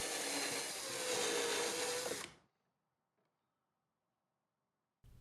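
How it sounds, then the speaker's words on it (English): A power drill whirs loudly and steadily for about two seconds, drilling a hole in the trim liner of a 2018 Goldwing motorcycle, then stops, leaving near silence. "the last hole we're going to drill is in the liner itself"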